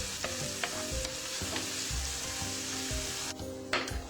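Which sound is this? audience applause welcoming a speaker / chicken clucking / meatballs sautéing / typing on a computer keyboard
meatballs sautéing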